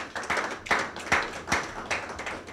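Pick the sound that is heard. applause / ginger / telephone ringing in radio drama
applause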